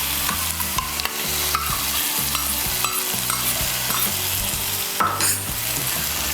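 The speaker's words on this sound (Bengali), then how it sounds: "টক দইটাকে ভালো করে মিশিয়ে নেব।" Yogurt being stirred into spice masala frying in a pan for dhaba-style chicken bharta, a steady loud sizzle with repeated scraping stirs of the spoon throughout, no talking.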